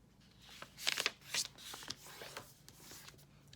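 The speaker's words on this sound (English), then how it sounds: "we're going to fold our paper in half the other direction" Sheets of paper being creased and folded in half while making an origami crocodile, a few close rustling, crinkling strokes in quiet surroundings.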